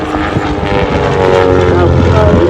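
Team Raven aerobatic display aircraft flying in formation at the Southport Airshow 2025: a loud, continuous propeller-engine drone that swells slightly, with a commentator talking over it.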